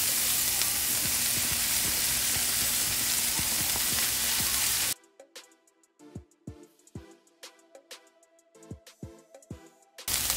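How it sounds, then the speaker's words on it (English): Spinach dropped into a hot pan for spinach dip, a loud steady sizzle for about five seconds that then cuts to quieter scattered crackles and pops until the end. "Now we can go ahead and add your spinach."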